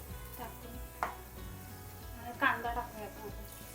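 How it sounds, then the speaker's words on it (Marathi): Cinnamon, cloves and bay leaf sizzle in hot oil in a pan, a soft steady crackle with a couple of brief sharper pops, close by but faint, under a voice speaking. "दालचिनी आणि लवंग टाकते तमालपत्र आहे. आणि खडे मसाले घ्यायचे आहेत तेलामध्ये"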